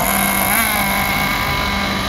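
A small high-pitched RC car engine drones steadily at a constant loud whine, close by, with no talking.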